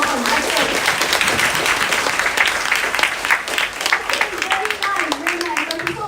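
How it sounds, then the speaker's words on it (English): Applause from a seated audience at an interbranch speech competition, a dense, steady patter of clapping lasting several seconds with voices and cheers mixed in throughout. "give yourself a big round of applause for congratulations"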